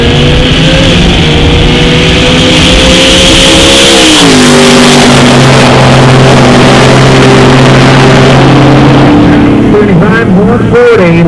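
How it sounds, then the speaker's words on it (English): A turbocharged drag racing car at a Midwest drag strip holds a loud, steady engine drone as the turbo spools, its pitch stepping up then settling, with a brief burst near the end. "we're going to sit back and spool a little turbo up"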